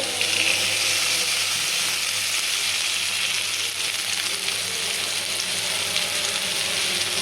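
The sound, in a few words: onions frying in oil in a wok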